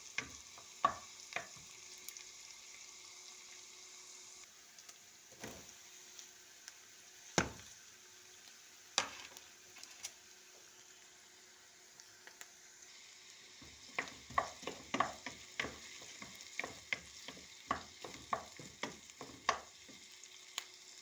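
Diced onions frying in butter in a pan for bulgur pilaf, a steady soft sizzle broken by scattered knocks and scrapes of a spoon stirring, thicker in the second half.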